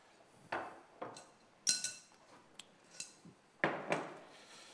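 A kitchen knife cuts boiled tomatoes in a home kitchen, giving a handful of separate, crisp clicks and thuds of the blade meeting the cutting board, nearby and fairly quiet, with short pauses between strokes and no talking.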